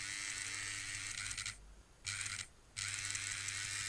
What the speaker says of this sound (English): then we'll just make the loco run